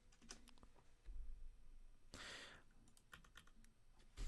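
Keyboard typing in the Opera browser produces soft, quick clicks in short irregular bursts, with one louder broadband swish partway through, all fairly faint and close.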